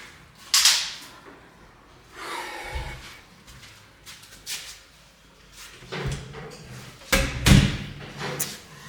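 An interior door in a house under renovation is shut with a few sharp knocks and thuds, the loudest near the end, separated by rustling and handling noise.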